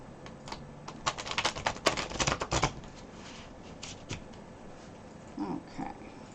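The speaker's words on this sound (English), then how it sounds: "One more little shuffle here" Tarot cards being shuffled by hand: a rapid flurry of crisp riffling and snapping card sounds for a couple of seconds, then a few softer scattered shuffles, close and fairly quiet, with no talking.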